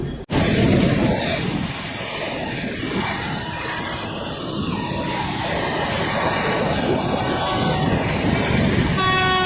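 The 20504 New Delhi–Dibrugarh Rajdhani Express runs at good speed, giving a loud, steady rolling rumble of wheels and carriage noise that continues throughout after a brief click at the start.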